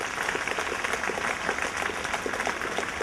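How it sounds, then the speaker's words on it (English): An audience at an inspirational leadership talk applauds in a continuous, even roar of many clapping hands, fairly close and steady for the full stretch with no talk over it. "Give me a round of applause."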